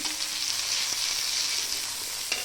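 Green chillies roasting in oil in a pan for a green chilli and tomato thecha, a steady close hiss and sizzle with a faint stir or clatter near the end, no voices.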